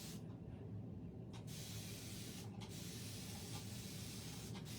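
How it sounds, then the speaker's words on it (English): A continuous, airy spray hisses as a bottle mists a tie-dye shirt, punctuated by a few brief pauses between bursts, close and fairly quiet. "Thank goodness for my sprayer from Chalk Couture."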